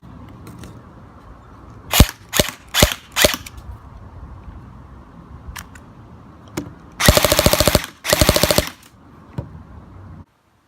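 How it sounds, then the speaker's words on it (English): A GFAP13 airsoft pistol fires a few sharp single semi-auto shots at close range, then two quick full-auto bursts of rapid cracks follow. "It does come with a semi-auto and full auto, which I'll show you guys the shooting in a minute."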